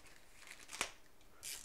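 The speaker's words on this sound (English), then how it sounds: "these little plastic bags are not easy to cut." A blade slicing through a small, durable plastic mailer bag, with faint crinkling and scraping, a sharper cut midway and a brief rustle near the end, quiet and close with no talk.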